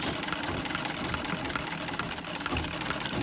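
A Singer Model 15-30 sewing machine stitches zigzag, running with a fast, even mechanical rattle and clatter, close and continuous for the whole stretch.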